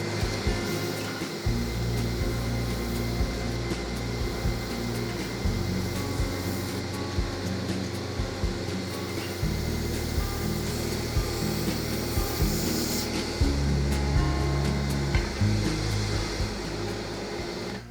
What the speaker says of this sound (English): Little bit of sanding to do.